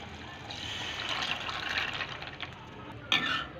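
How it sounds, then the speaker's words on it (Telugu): Soaked chana dal and its water tipped into fried masala paste in a pan, a continuous splashing pour with a brief louder splash near the end. "ఇందులోకి మనం నానబెట్టుకున్న పచ్చి శనగపప్పుని వాటర్తో సహా వేసేసేయాలి"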